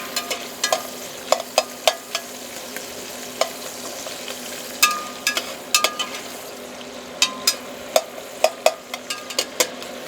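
Onions and carrots cook over medium heat in a pan on a Recteq Flagship 1100 pellet grill, giving a low steady sizzle punctuated by frequent sharp clicks and scrapes of stirring, close and moderately loud, with no talking.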